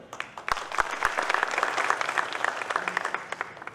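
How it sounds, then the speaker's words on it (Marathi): Students clapping at a public event, a close, dense burst of applause that carries steadily for several seconds before beginning to thin out toward the end. "मला पुढच्या चार लाईनीतलेच विद्यार्थी टाळ्या वाजवताना दिसत आहेत"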